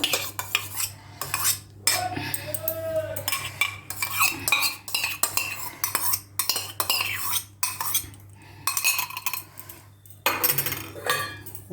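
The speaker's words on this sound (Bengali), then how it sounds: "সব কিছু এটাকে ভালো করে আমি মেখে রাখবো" Hands squelch and slap through raw mutton pieces coated in yogurt, cumin powder and coriander powder inside a bowl, a close, continuous run of wet mixing bursts with short pauses and no talking.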